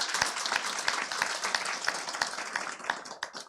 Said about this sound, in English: give them a big hand. And many thanks and applause to wonderful moderator, Kim.